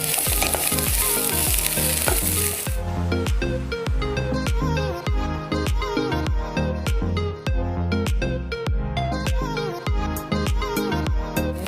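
Broccoli and green beans stir-frying in a pan over low gas for a vegetable salad: a loud, continuous sizzle with a burst of hiss at the start, then steady rhythmic clatter as the vegetables are tossed. No one speaks.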